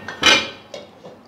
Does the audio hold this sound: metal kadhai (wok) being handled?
yes